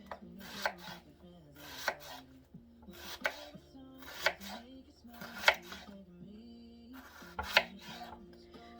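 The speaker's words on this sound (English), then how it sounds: "when I cut these up, I usually cut them in half, and then you just slice them like this" Knife slicing halved cucumbers on a board for bread and butter pickles, about seven crisp separate cuts at a slow steady pace with soft rubbing between strokes.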